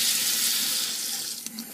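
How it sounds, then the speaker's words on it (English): Water poured into a hookah vase during cleaning, a steady close splashing rush that tapers toward the end with a couple of small clinks. "just kind of pour some water in here, let it filter out"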